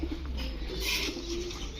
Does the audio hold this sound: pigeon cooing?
yes